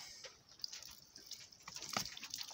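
Water splashing and dripping while a small cup of tomato seeds is rinsed, close bright trickles and droplets over a few seconds, with no voices.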